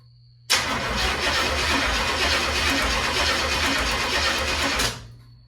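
A Chevrolet Nova engine is cranked over by the starter with no fuel in it. The loud, steady whirring churn runs for about four seconds, then stops abruptly, with no talking.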